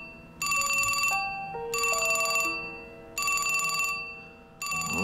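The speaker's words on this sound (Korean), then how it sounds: "전화가 울리고" A telephone rings in a quiet motel room in a video game, four loud bursts of bright bell-like ringing in a steady rhythm, each about a second long with short gaps, over soft background music and no talking.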